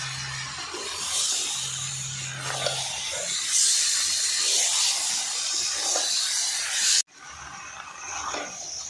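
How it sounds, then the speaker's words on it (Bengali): Jackfruit and fried potatoes tossed with spices in a pan, being stirred and cooked down, make a loud continuous hiss and sizzle with a brief cut partway through before the frying sound resumes. "এবার বেশ সুন্দর করে এই মশলার সঙ্গে মিশিয়ে কষিয়ে নেবো এঁচোর আর আলুগুলো"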